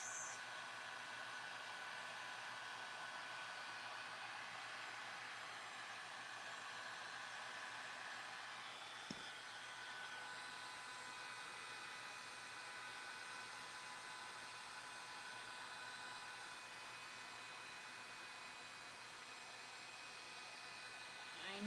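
A heat gun blows hot air over craft coasters to crack their finish, giving a steady, loud, broadband whooshing hiss that runs unbroken throughout with a brief tap partway through.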